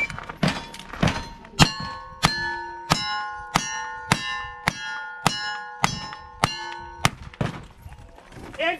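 Bullets strike steel shooting targets at a cowboy action shooting match, a rapid string of about a dozen sharp ringing clangs with long metallic decay, loud and evenly paced, no talk.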